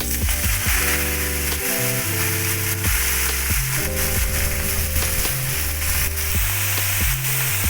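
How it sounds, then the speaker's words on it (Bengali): Chopped red amaranth greens hit hot oil tempered with nigella seeds and a dried red chili, giving a steady, continuous sizzle that sits beneath tuneful background music throughout. "এতে কুচিয়ে রাখা লাল শাক দিয়ে দিলাম"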